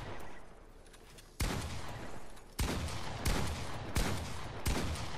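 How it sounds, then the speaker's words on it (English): Pump shotgun fire in the Fortnite video game: four sharp, loud blasts in quick succession, each with a short decaying tail, over a faint background. "So I can just like double shoot with the pump basically if I see someone"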